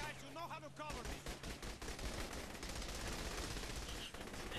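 Dense, continuous gunfire from the Saints Row: The Third video game, with rapid automatic bursts and overlapping shots filling the whole stretch, loud and close.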